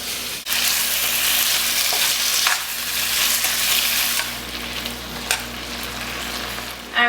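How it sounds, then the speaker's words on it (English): Chicken sizzles in a hot skillet with canola oil for a hoisin stir fry. A loud, continuous frying crackle is broken by a few clanks and stirring swells as the pieces are tossed. "You wanna make sure that your skillet's nice and hot. You can hear it sizzling."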